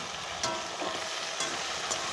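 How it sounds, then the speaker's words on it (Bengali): Boiled potatoes stirred into hot oil with cumin sizzle softly, with a few brief scraping strokes of the spoon against the pan breaking through the low frying crackle. "একটু তেলে নাড়াচাড়া দিয়ে দেবো ভালো করে।"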